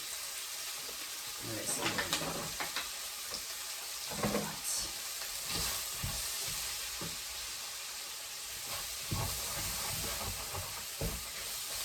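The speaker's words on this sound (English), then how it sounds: "The bacon's looking delicious. So I'm going to add in my mushrooms and my celery." Mushrooms and celery hit a hot pan of browned bacon and sizzle steadily, with a bright hiss, occasional stirring scrapes and bursts of crackle; a voice talks now and then over the frying.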